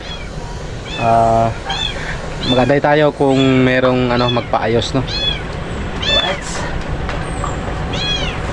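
Several cats meow repeatedly inside a shop, close and fairly loud, with overlapping cries throughout while someone talks over them.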